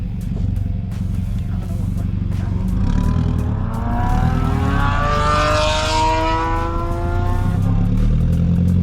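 An Audi A4 drift car engine revving hard on throttle, a loud, steady rasping roar with rising and falling pitch sweeps as the revs climb and drop.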